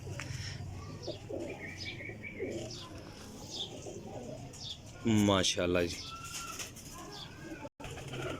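Pigeons coo and chirp around a loft of show flying pigeons, a steady chorus of soft calls with a brief flutter of wings, while someone talks over them.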